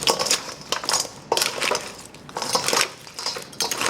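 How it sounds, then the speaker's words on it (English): A spoon clinks and scrapes in a bowl as light curry and Madras curry powder are mixed together, with several bursts of sharp metallic scraping and tapping close by, and no talking. "And we're just going to mix it all up."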